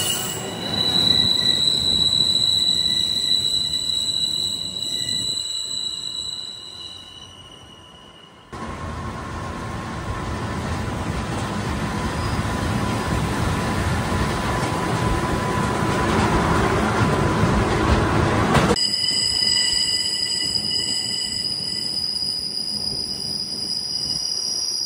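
The Glacier Express rolls through the Swiss mountains beside a mountain river toward Zermatt, with a steady close rumble and high wheel squeal; a louder, roaring stretch takes over midway before the quieter running returns.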